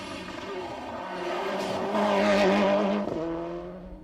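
A Subaru rally car at speed on a 1997 Corsica stage, engine note rising and swelling as it passes close by, with a brief tyre scrub near the loudest point before fading slightly.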